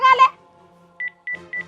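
A telephone is dialed to call the police: a short burst of voice, then a pause, then three quick pairs of bright keypad tones, each pair a short double beep, while a voice murmurs underneath.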